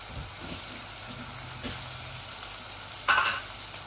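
Four or five garlic cloves fry in oil that has turned red, giving a continuous close sizzle with a brief louder hiss-burst near the end.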